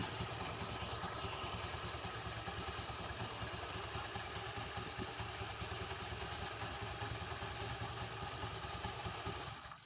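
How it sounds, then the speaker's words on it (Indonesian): A Honda Beat FI scooter engine idles at raised RPM after a fix for vibration, giving a quiet, steady mechanical putter that runs evenly before a brief sharp noise at the end. "kita naikkan dulu langsamnya RPM-nya"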